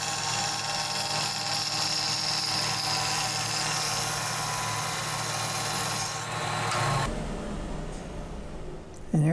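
A power tool cutting wood inlay strips whines loudly and steadily for about seven seconds, then drops away into quieter workshop noise, with a brief thump near the end.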